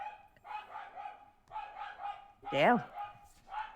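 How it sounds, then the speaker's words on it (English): Neighbours' dogs bark repeatedly from a distance, a string of muffled barks with one louder yelp partway through, heard through a window, with a short spoken word. "I hate these neighbors' dogs."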